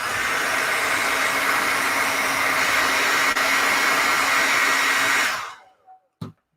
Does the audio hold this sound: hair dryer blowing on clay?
yes